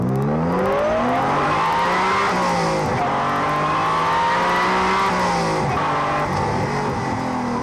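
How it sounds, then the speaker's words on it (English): A Honda NSX engine revs hard and climbs through the gears, a loud close howl rising in pitch with brief dips at each shift and a faint supercharger whine beneath. "Just listen to that engine"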